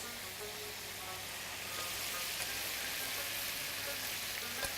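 Haleem cooking with homemade spices, a steady hissing sizzle from the pot that swells slightly partway through, continuous and fairly close with no talk.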